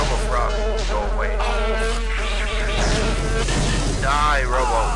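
Robot insects in the shooter game Daikatana buzz loudly and continuously with wavering, whining drones, joined by brief impact sounds.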